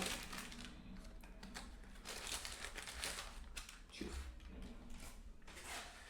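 Crinkling and rustling of a plastic food packet being torn and opened up close, with a few crunchy bursts and no talking.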